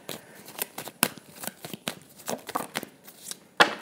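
Tarot cards are shuffled in quick, papery riffling bursts, and a single card is drawn with a sharper snap at the end, close and without talk.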